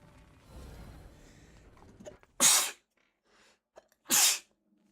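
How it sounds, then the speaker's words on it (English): Two loud, sharp human sneezes about two seconds apart follow a stretch of quiet background sound and a soft intake of breath, with no talking. "Ugh, I keep sneezing."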